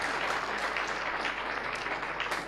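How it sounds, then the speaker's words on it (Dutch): An audience at a sports gala in Venray applauds, a dense, steady wash of clapping from a crowd that holds evenly for a couple of seconds. "Even een applaus inderdaad voor Mees Rutgering."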